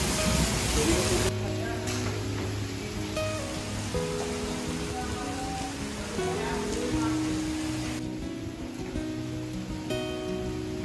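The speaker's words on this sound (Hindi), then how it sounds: "तो बारिश तो और ज़्यादा तेज़ होगी" Rain falls at Sector 17 market in Chandigarh, a steady hiss of drops on surfaces that runs throughout beneath tonal hums and other street sounds, with no clear talk.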